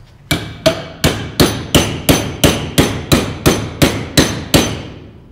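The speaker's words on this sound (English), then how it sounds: "Let's hit it from both sides." About a dozen hard hammer blows land on a clamped oxy-acetylene weld from both sides, ringing metallic clangs close and loud in a brisk, regular rhythm, with nothing else heard.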